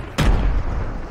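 A grenade blows up in the Fortnite battle royale game: one sudden loud boom with a short, rumbling low-end tail that fades within a second.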